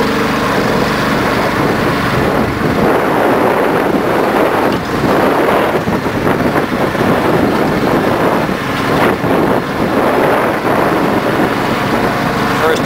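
A Cushman motor scooter rides slowly along a snowy road at about 28 degrees without snow tires, its light engine droning steadily under heavy wind buffeting on the microphone, with a voice heard talking over it.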